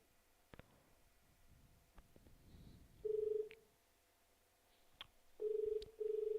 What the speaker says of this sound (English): I gonna make this phone call.